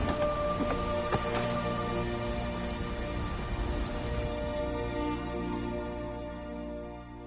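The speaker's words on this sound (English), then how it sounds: "Why is it always raining?" Steady rain patters on surfaces beneath a low droning ambience in the video game Skyrim, continuous and fairly loud, easing slightly toward the end.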